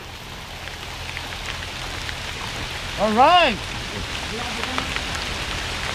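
Rain falls steadily in an outdoor spot as a fine, constant hiss with no break, while a person briefly exclaims over it partway through.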